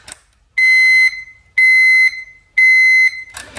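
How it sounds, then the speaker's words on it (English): A 1982 Elektronika VFD alarm clock sounds its alarm: three loud, sustained electronic tones of about half a second each, evenly spaced a second apart, with no talking. "this is the annoying sound of the alarm"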